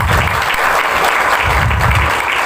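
An audience at a religious school gathering breaks into dense, loud applause that stays sustained and even for the whole short stretch, with no talking over it.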